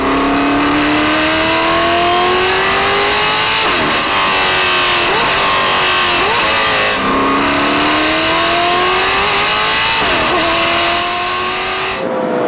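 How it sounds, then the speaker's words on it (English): The Chevy 366 V8 in a 1983 March 83G race car roars loud and close, revving hard through a series of rising gear pulls with brief dips at the shifts, with no voices over it. "The V8 engine roaring behind you"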